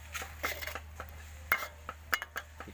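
Pork stir-fries with curry paste in a pan as a utensil scrapes and clinks against the metal in quick, irregular strokes. The sound is fairly faint over a low steady hum, with no talking.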